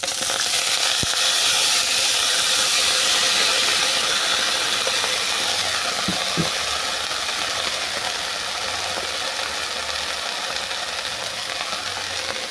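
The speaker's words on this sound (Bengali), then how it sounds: "এরপর তুলে দেবো লাউ শাক।" Bottle gourd greens dropped into hot oil with fried black cumin, giving a steady, loud broadband sizzle and hiss that carries through without pause, with a couple of faint clicks partway through and no talking.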